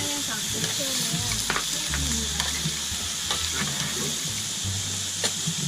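Pork or beef sizzles and fries steadily on a Korean barbecue grill, a dense continuous crackle with occasional sharper pops and a low rumble of the cooking underneath, loud and close with no talk.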